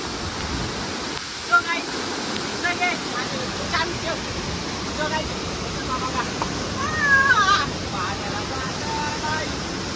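A dangerous waterfall called Daitya in the Sahyadri hills roars as a constant broad wash of falling water, close and steady, with a voice briefly rising over it.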